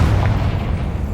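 Confringo fire spell from Hogwarts Legacy bursting in a deep, rumbling boom that sustains at full loudness for about a second, heavy low-end roar with no voices.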